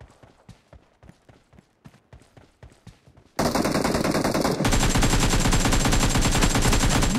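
Gunfire in the battle-royale game BGMI: a run of rapid, evenly spaced shots, then a loud sustained burst of automatic fire that grows denser and continues to the end.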